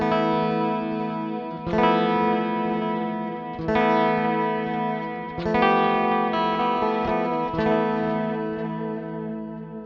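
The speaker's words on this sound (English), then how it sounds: "So this has got like a little bit of chorus in the reverb, in the delay." An electric guitar plays sustained chords through a shimmering chorus effect with delay, each strum ringing into the next.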